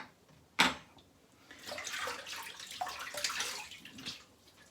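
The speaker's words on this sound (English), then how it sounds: "So rinsing off the lather." Lather is rinsed off a shaving brush under running tap water: a sharp knock, then splashing, gushing water with fluctuating intensity, close and fairly quiet, no talking.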